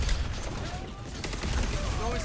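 Rapid gunfire from the hero shooter Concord, a dense continuous burst of shots mixed with game effects, loud and close throughout.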